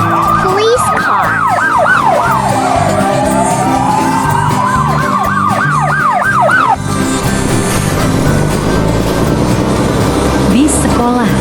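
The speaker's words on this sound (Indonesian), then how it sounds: "Police car." A police car siren wails loudly and continuously with rising and falling sweeps, switching to a fast yelp pattern before cutting off around the midpoint, followed by steady traffic noise.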